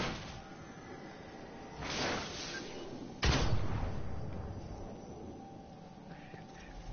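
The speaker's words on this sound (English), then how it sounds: "Grenades." Grenade blasts and gunfire in the Destiny shooter game: a soft whooshing burst near two seconds, then a sharp, loud explosion just past three seconds that trails off slowly over steady low background noise.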